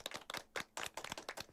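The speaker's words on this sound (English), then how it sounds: "Not enough claps." A small group claps sparsely and unevenly, a dozen or so separate close hand claps with brief gaps between them, fairly quiet overall.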